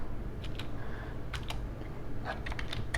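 Rapid clicking of keys on a computer keyboard as C program code is typed, a steady close-up patter of keystrokes with brief pauses over a constant background hum.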